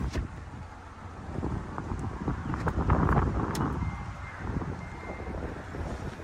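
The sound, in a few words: wind blowing outdoors around a parked 2026 GMC Terrain AT4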